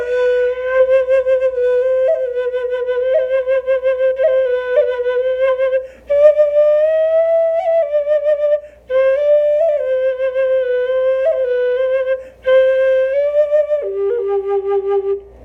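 An Andean quena flute plays a clear, breathy melody at close range with wavering vibrato, quick trills and smooth legato phrasing, in four long phrases separated by short breaths.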